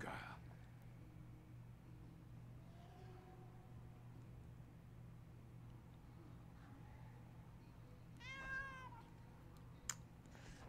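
A house cat meows a few times, faint and high-pitched over a low steady hum, with one longer rising-falling meow near the end.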